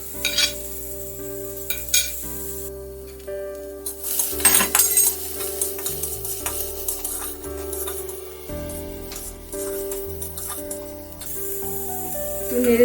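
Chopped onion, carrot and chilli being stirred in a pan with a little ghee, with steady close scraping and clinking against the pan over a soft sizzle and a background tune.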